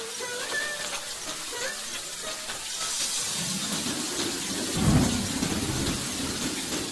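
In an animated cartoon, heavy rain pours steadily while a deep roll of thunder swells midway and fades, all loud and close with no voices.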